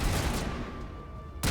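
Defensive turrets open fire in the Mass Effect video game, a dense, sustained burst of rapid gunfire that holds steadily, briefly thins out, then surges back loud at the end.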